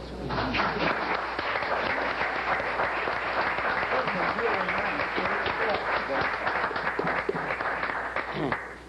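Sustained audience applause fills a 1982 city commission hearing room during closing arguments, a steady dense clapping that runs for several seconds before stopping abruptly.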